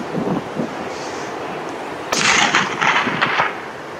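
A single sharp rifle shot at a Himalayan tahr cracks out partway through over steady alpine wind noise in New Zealand, followed by a burst of rushing, hissing sound.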